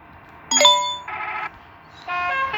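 A bus horn in the Bus Simulator Indonesia driving game sounds in two loud, sustained tonal blasts, the first briefly after a sharp onset and the second held toward the end, with no talk.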